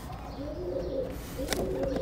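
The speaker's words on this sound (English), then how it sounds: "I'm legit being attacked by pigeons." Pigeons coo nearby in soft, low, rolling calls, one after another, with a brief rustle partway through.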